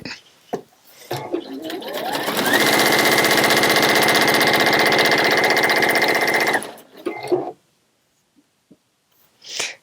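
A sewing machine stitches across one end of fabric in a long, loud, steady mechanical whir of about four seconds, preceded and followed by short handling clatter and brief speech.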